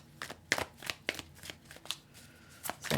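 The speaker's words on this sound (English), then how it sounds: "I'm going to keep shuffling till 2 others come out." Tarot cards being shuffled by hand during a reading, a series of crisp riffling bursts in an uneven rhythm, close and clear with no talk over them.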